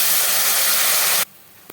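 A steady, loud hiss and sizzle as jaggery syrup hits a hot pan, cutting off abruptly after about a second, followed by quiet.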